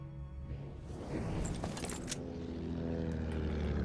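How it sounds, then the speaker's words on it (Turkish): Propeller aircraft roars overhead in Battlefield 1 on the Monte Grappa map, a steady loud engine drone that swells and stays strong throughout, with no talk. "Ah var uçak."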